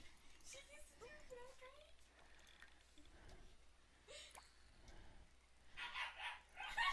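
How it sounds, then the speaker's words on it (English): A puppy barks in a few quiet, distant yips and whimpers indoors, with brief noises and a louder burst near the end; a voice is faintly present. "Now I have a puppy barking"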